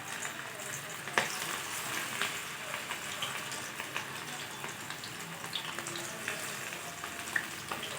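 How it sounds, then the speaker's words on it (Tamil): Prawn 65 deep-frying in hot oil in a pan, heard as a continuous close sizzle and bubbling crackle with occasional sharper pops, moderately quiet and without talk. "சூடான எண்ணெயிலே நம்ம சும்மா அப்படி ஒரு பெரட்டிட்டு நம்ம 65 போட்டு பொரித்து எடுக்க வேண்டியது தாங்க."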